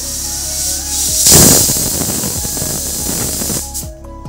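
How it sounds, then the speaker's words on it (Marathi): A kitchen pressure cooker lets off one whistle, a loud close hissing rush of steam that swells sharply, holds for a couple of seconds and then cuts off, with no talking. "इथं आता आपली 1 शिट्टी व्हायला लागली,"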